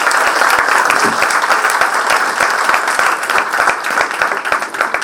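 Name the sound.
final round of applause for the audience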